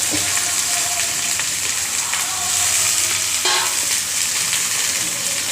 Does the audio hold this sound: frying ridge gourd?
yes